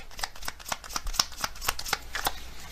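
A deck of tarot cards being shuffled, a quick run of crisp, close flicks and riffles in rapid, uneven rhythm.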